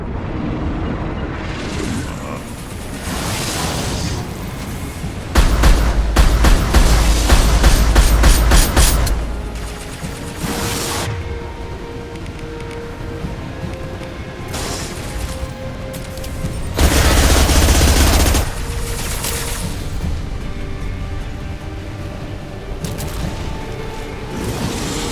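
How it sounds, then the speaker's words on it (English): Heavy gunfire and explosions in the sci-fi shooter game Mass Effect 2: sustained bursts of weapon fire with two loud, booming blasts and a constant battle din throughout. "Taking heavy fire."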